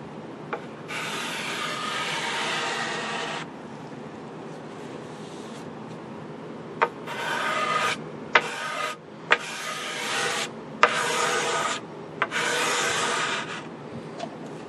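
Excess material is scraped off an RCA Radiola 60 radio cabinet, heard as close, raspy strokes: one long scrape, then a series of shorter rhythmic passes broken by small knocks, with no talking.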